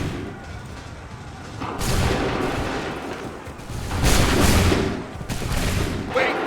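A musket volley firing in Assassin's Creed III, loud bursts of massed gunfire rolling out in several waves, with battle din between the volleys.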